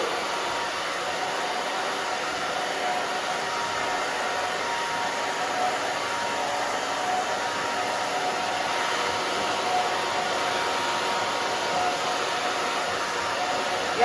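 A handheld hair dryer blows steadily and close while drying a short bob haircut in a salon, a continuous even whoosh with no break.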